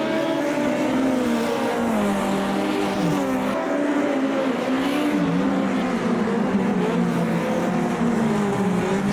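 A race car's engine roars in a racing video game at a street circuit, sustained and loud with wavering pitch as the car takes long high-speed corners, revving up and easing off continuously.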